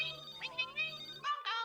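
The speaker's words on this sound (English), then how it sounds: "your phone is ringing back" A phone ringtone plays a short bright melodic chime in two quick phrases, clear and close, with a brief gap between them.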